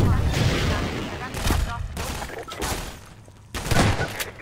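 Bursts of rapid gunfire in Half-Life 2: Episode One, several loud clattering volleys separated by brief pauses, with a voice talking over them.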